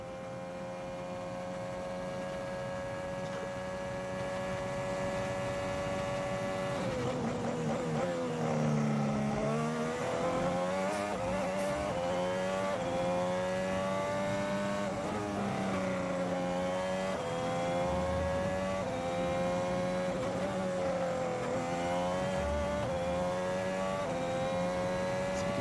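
A Formula 1 car at the 2019 Italian Grand Prix qualifying screams past at high revs, then its pitch drops as it brakes and downshifts before climbing again under hard acceleration. The sound is continuous and moderately loud.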